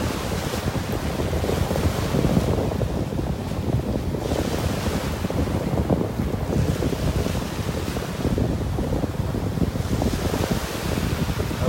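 Surf washing steadily onto a beach in North Naples, Florida, a continuous broadband roar of breaking waves with gentle swells in intensity, mixed with wind buffeting the microphone and no voices.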